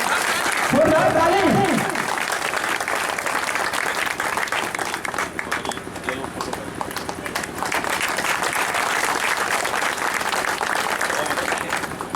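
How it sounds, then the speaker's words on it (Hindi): Applause at a Sahara India meeting in Bisfi, a long steady wash of crowd clapping that stays loud and continuous, with a voice briefly audible at the start. "इनके लिए ताली लगा दीजिए"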